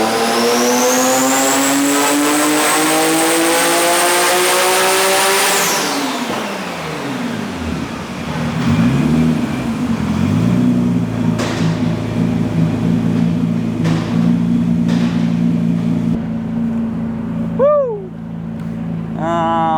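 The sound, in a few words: Nissan R33 GT-R RB engine revving on dyno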